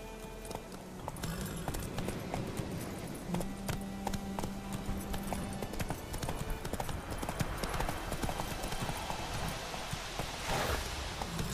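Roach the horse trotting along in The Witcher 3, a steady, moderately quiet clip-clop of hooves repeating at an even pace over soft ambient background.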